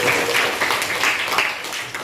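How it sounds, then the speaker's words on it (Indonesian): Students in a classroom clap for a classmate during a chemistry lesson, a short scattered round of applause of moderate loudness. "Tepuk tangan buat Anita."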